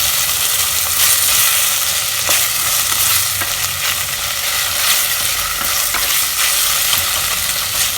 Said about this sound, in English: You just keep it stirring